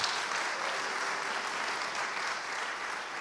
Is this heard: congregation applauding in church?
yes